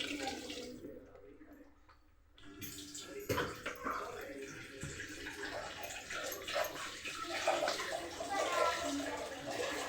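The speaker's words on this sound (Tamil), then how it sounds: "இப்போ கொஞ்சம் தண்ணி ஊற்றிக்கலாம் குழம்பு ஆகிறதுக்கு." Water poured into a pan of sautéed onions and spices for a curry, a steady splashing gush that runs for several seconds, fairly close and continuous.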